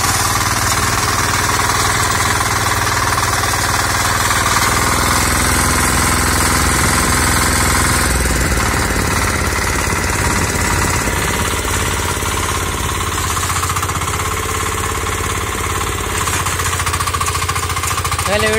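An Agrimart 9hp power weeder engine runs in a field, a loud, continuous chugging drone that holds steady throughout.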